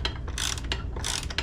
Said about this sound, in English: got a T45 here. Gotta remove this bolt